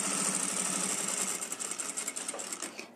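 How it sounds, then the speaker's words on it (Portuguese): A sewing machine runs steadily, stitching a 3 mm finishing seam, with a dense mechanical whir that holds at full speed and then slows into uneven bursts toward the end. "Eu faço sempre uma costurinha aqui, ó, de 3 milímetros, mais ou menos."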